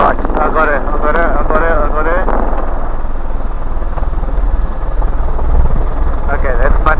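A helicopter flies during an elephant darting operation at Sanbona, its loud continuous rotor and engine drone running the whole time while someone talks over it in the first half.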